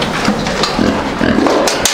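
Pig grunting on a small household farm in Ukraine, short grunts and snorts close by over steady farmyard background noise, with a sharper clatter near the end.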